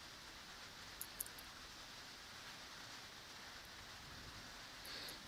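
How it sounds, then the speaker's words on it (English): Heavy rain pours down on an outdoor lawn bowls green in Tauranga, a faint, steady hiss of falling water with a few small taps and drips standing out, heard alone. "We can hear the rain in the background again"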